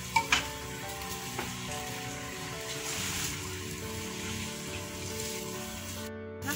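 Boneless chicken breast pieces frying in a pan, giving a steady, hissing sizzle throughout, with a few sharp clinks at the start and no talking.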